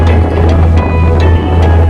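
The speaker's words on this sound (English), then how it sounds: "It's very windy this morning" Strong morning wind on the Appalachian Trail near the Blue Ridge Parkway buffets the microphone with a constant low roar and gusty bursts, loud and close, with no one speaking.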